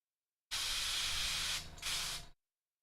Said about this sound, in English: we can kind of double check here with the airbrush